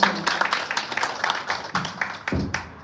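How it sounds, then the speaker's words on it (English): Scattered audience clapping at the inauguration of an Atal incubation centre in Kolkata, a steady patter of separate hand claps over a few seconds that thins out toward the end. "Can we have a round of applause for Promit Das, Program Director, Atal Innovation Mission?"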